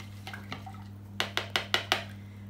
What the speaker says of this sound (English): I'll just give that a little bit of a whisk around just to incorporate the egg and the milk together